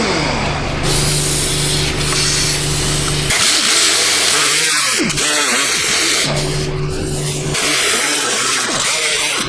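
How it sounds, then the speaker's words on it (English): Abrasive scraping and rubbing on an exhaust gasket surface at a GMC Acadia flex pipe, harsh and close with steady strokes, a low motor-like hum underneath and no talking. "We can clean off our gasket"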